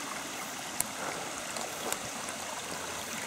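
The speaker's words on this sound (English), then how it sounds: "Sound of the water again is kind of reassuring" Stream water flows steadily along a walking path in Japan, a soft continuous wash of trickling and splashing with a couple of brief faint clicks, no voices.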